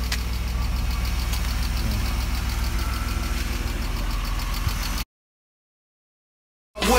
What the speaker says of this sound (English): Here's the engine warming up.